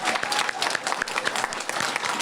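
A community audience at a library reopening gives a round of applause for the library staff, a lively burst of many hands clapping close by, steady and uneven throughout.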